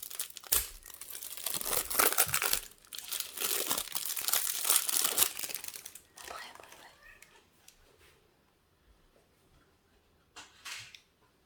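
The foil wrapper of a Magic: The Gathering Streets of New Capenna booster pack crinkles and tears in close, loud bursts as it is struggled open, while a person talks quietly, then quieter rustling and a final crinkle.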